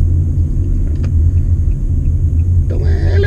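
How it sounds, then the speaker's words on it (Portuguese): A Fiat Argo Trekking 1.3 Flex CVT in Sport mode runs at raised revs, a steady low rumble and drone from inside the car, with a brief voice near the end. "Nós temos também o modo Sport, então ele já levanta a frente, trabalha com giro mais alto do motor."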